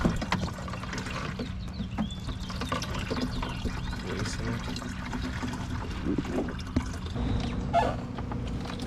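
Plants in a greenhouse being watered through with clear water. A soft trickle and splash runs quietly throughout, with faint background sounds and some low voices.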